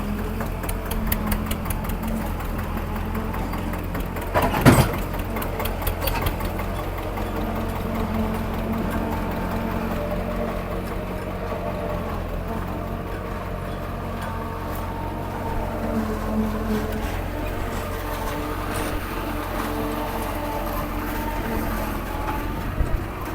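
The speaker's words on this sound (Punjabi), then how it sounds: "ਕੋਈ ਲੋਡ ਨਹੀਂ ਮਹਿਸੂਸ ਹੋ ਰਿਹਾ ਟਰੈਕਟਰ ਨੂੰ" A Sonalika mobile shredder driven by a tractor chops maize with a steady, continuous mechanical drone and rattling hum, loud and close, with one brief sharp clack partway through.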